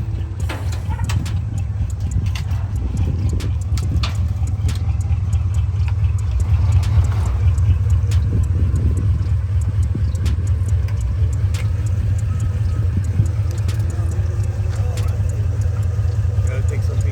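An old school car engine idles with a steady, loud low rumble that holds evenly throughout, with faint scattered background noises.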